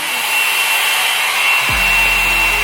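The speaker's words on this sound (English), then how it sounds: "My blow dryer, and then I'll just blow dry it at the highest." A blow dryer running on its highest setting dries a wet synthetic wig, giving a steady, loud airy whoosh throughout, with a low motor hum deepening near the end.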